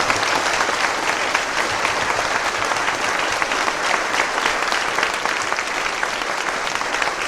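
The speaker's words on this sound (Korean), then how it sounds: "우리 한 30초 동안 짧게라도 성도들 다 일어나셔서 뜨거운 박수로 다시 한번 축복하겠습니다" A church congregation rises and applauds warmly at a service honoring elders, a sustained, even roar of clapping from a large crowd throughout.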